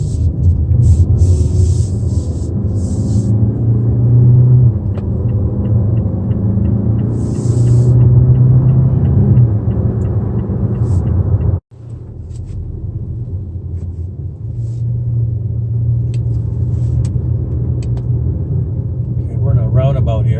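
Inside a 2019 Mazda CX-5 driving on the road, a steady low engine and road rumble fills the cabin, with a brief dropout about halfway through before the drone resumes.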